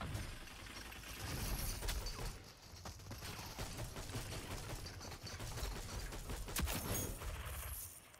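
Rapid gunfire and weapon mechanisms from the online shooter Rogue Company, a dense, continuous stream of shots and clattering effects with brief louder bursts, with no talk over it.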